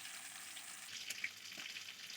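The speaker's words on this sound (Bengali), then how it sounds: "আর এইখানে মাছ ভাজা হচ্ছে" Fish, freshly rubbed with salt and turmeric, sizzles in a pan of hot oil in a home kitchen, a steady close-up frying hiss that runs unbroken with a couple of small pops.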